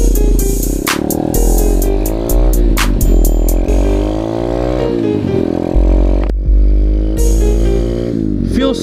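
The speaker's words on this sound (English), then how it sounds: "first test ride on the Tao Tao DB-17 125cc Pitster Pro pit bike" Tao Tao DB-17 Pitster Pro 125cc pit bike on a test ride: a loud, close single-cylinder engine revs up and down with rising and falling pitch, with clattering and scraping and brief pauses in the throttle.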